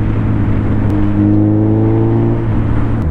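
Suzuki Hayabusa Gen-2 motorcycle pulling hard through its gears, loud and close, with a heavy engine note that climbs steadily across the full stretch and no voices.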